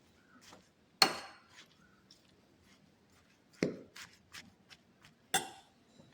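A spoon scrapes and knocks against a bowl while vadukapuli pickle mixture is stirred, with a few sharp clinks spaced across the stretch among softer scraping, close and otherwise quiet.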